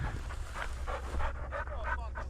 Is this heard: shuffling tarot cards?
no